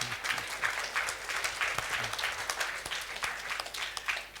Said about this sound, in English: the Minister of Finance and Public Enterprises deserves a bigger round of applause